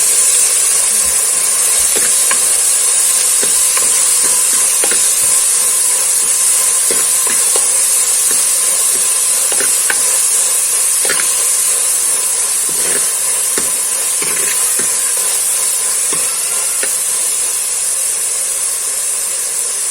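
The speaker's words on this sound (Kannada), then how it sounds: "ಈಗ ಟೊಮೆಟೊ ಮತ್ತು ಶುಂಠಿಯನ್ನು ಒಟ್ಟಿಗೆ ಸೇರಿಸಿ ನಾವೀಗ ಫ್ರೈ ಮಾಡಬೇಕು" Tomato and ginger frying together with onion in a pan for chicken curry, a steady loud sizzling hiss with faint scattered crackles running evenly throughout, no talking.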